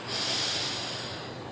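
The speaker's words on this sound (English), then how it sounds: "Feel how that air feels coming in through your nose." A slow, steady inhalation through the nose during a guided deep-breathing exercise, a soft continuous airy hiss lasting over a second, close and alone with no talk.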